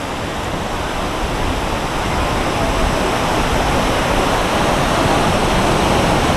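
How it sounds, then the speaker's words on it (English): Small, gentle ocean waves wash steadily onto a wide, long sandy beach at Rincon de Guayabitos on Mexico's Riviera Nayarit, a continuous, fairly loud surf wash with no voices. "the waves are not big today"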